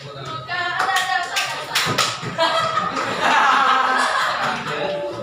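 A classroom of vocational school students claps together, a loose burst of hand claps mixed with chuckles and laughter, with voices talking over it.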